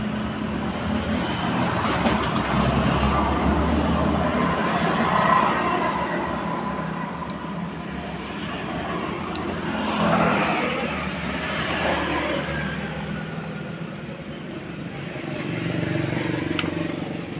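A Honda Sonic, Supra GTR or CB150R motorcycle engine idles hot with its radiator fan whirring, a steady close drone of mechanical noise under faint voices.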